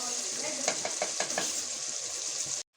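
Meat for haleem fries with a steady hiss in a pot while a spoon scrapes through it in a short run of stirring strokes, close up, ending abruptly.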